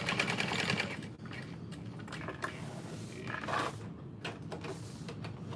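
A sewing machine stitches the connectors of a tote bag, its needle pounding in a fast steady rhythm close by with some clicks and rustles of handling and no talking.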